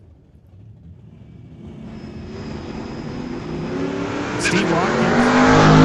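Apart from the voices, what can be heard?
drag race cars launching: 2018 Ford Mustang versus Chevrolet Nova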